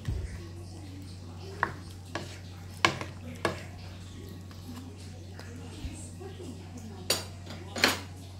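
Spoon clinking against a pot while chicken adobo stew with cornstarch is stirred, giving scattered sharp metallic taps over a steady low hum, fairly close and moderately quiet, with no talk.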